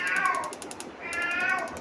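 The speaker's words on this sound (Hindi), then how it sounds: "ये बिल्लियाँ बस बोलती रहती हैं हमारे घर में" Domestic cats in a home kitchen meow twice, two drawn-out close cries separated by a brief pause, over faint background ticking.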